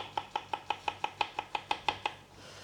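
Knife chops through slices of vegan French toast on a board, about a dozen evenly spaced crisp cuts at a quick steady rhythm, close and clear with no talking.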